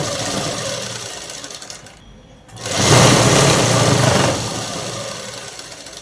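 A sewing machine stitches a pocket onto a pair of trousers with a close, steady mechanical whir. It pauses briefly, then runs again faster and louder before easing back to a steady hum.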